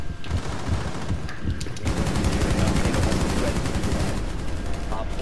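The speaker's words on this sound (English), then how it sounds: "Someone's still shooting, I might know where that's coming from." Gunfire in Rainbow Six Siege comes as rapid automatic bursts of shots, dense and loud, repeating across the moment with brief gaps and faint talk in the background.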